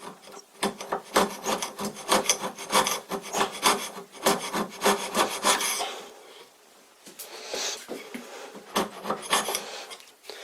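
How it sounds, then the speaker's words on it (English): Hand scraping of a metal surface with a homemade scraper, a steady run of rapid rasping strokes up close, a short pause, then another burst of scraping strokes. "I've never done any metal scraping, so I don't have anything to compare this with."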